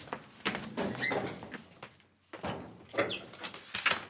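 An elevator door slides shut with soft thunks and rattles, mixed with movement and faint voice-like sounds in an indoor building setting.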